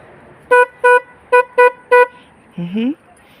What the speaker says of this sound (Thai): แตรลมเนาะแบบนี้